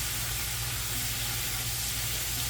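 Beef and dried thyme sauté in a cast iron cauldron set over hot coals, giving a steady, close, continuous sizzle and hiss with a low rumble beneath and no voices.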